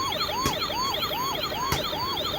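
A toy police car bought at DMart sounds its electronic siren close by, a looping high warble repeating steadily at an even pace with no voices over it.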